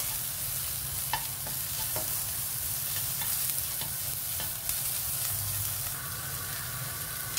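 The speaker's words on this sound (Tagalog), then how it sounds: "So, fry lang natin siya hanggang sa maging translucent." Chopped onion frying in a pan, a steady close sizzle and crackle with a few stirring scrapes and clicks over the continuous hiss.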